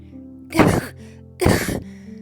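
Two deliberate coughs, each a short harsh burst, separated by a brief pause, voiced as a door coughing in a children's story about a chimney; the voice imitates the sound.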